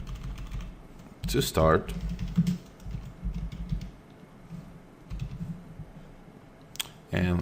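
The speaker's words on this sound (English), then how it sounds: "let me just type hello world" Someone types on a computer keyboard, with clusters of quick, close key clicks separated by brief pauses, under occasional speech.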